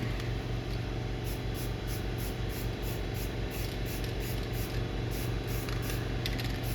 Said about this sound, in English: Put the spray paint on there while it's hot